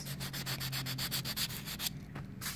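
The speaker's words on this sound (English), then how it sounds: "I'll just sandpaper it all the way, nail file it all the way around" Sandpaper or a nail file rubs over a Japanese aluminium foil ball in quick, even back-and-forth scratchy strokes, close and fairly quiet, with a short pause near the end.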